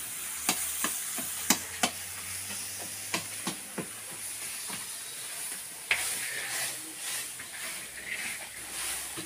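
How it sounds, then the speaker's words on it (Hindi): Chicken frying in a large pan at a wedding catering kitchen, with a steady sizzling hiss broken by sharp clinks and scrapes of a stirring ladle at irregular intervals. "चिकन फ्राई हो रहा है"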